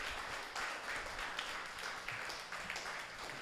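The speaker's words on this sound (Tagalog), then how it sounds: "tayo pong lahat ay magbigay ng papuring palakpak sa ating Diyos" A church congregation applauding in praise of God during a Filipino Sunday worship service, a soft, sustained patter of many hands clapping with slight swells, heard at a distance.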